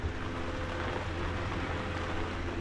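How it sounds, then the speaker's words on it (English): Rain falls steadily around a boat, a dense, even hiss with a low rumbling undertone, continuous and fairly loud without any voices. "but it's still raining."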